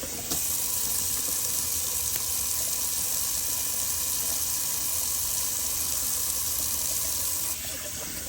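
A steady gush of tap water runs into a sink for several seconds, close and continuous, then cuts back slightly at the end.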